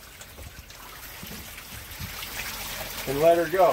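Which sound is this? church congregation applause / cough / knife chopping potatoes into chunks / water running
water running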